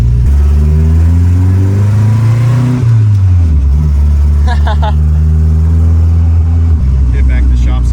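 Turbocharged Chevy LUV pickup pulling hard under boost, its engine note climbing through gears with a shift dip, loud and close from inside the cab while people talk over it.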